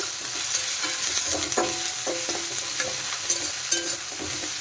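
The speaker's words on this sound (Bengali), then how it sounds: "কারি পাতাগুলোকে আমি একটু ছিঁড়ে দেব দিয়ে এগুলোকে হালকা একটু ভেজে নেব" Onion, garlic and torn curry leaves fry in a pan, giving a steady close sizzle with scattered crackles and the scrape of stirring; no voices.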